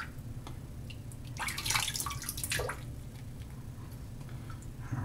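Water splashes and drips as a shaving brush is wetted and worked at a basin of warm water, a short wet squishing burst over steady running background noise.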